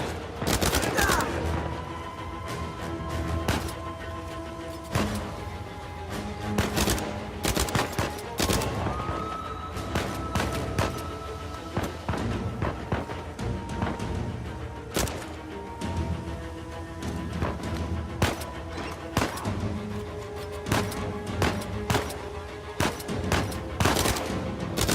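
Machine guns fire in Uncharted 4 in repeated sharp bursts and single cracks that pile up across a long firefight, loud and close, layered over a steady musical score.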